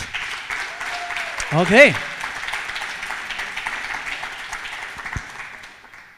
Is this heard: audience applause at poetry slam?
yes